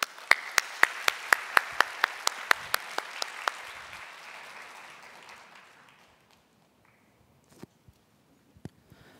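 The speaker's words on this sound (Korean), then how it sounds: "우리 나올 때 우리 박수로 환영해 주시기를 바랍니다." A church congregation at a young adults' worship service applauds to welcome a speaker; crisp, evenly spaced claps ring out over a softer wash of applause that fades away by about six seconds, leaving a few stray claps in near silence.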